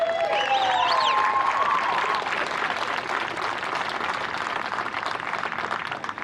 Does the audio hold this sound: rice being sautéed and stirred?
no